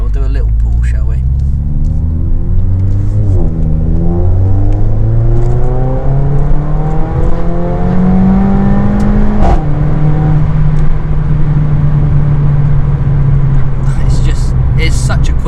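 Mercedes A45 AMG hatchback pulling hard through the gears, its engine and exhaust revving up loud and close with rising pitch sweeps and gear-change dips, carrying on as a steady roar at the end.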